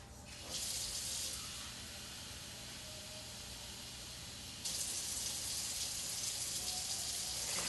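A cup and a half of water pours into a pot holding a cup of rice, a steady rushing hiss that swells near the end and runs alone for several seconds.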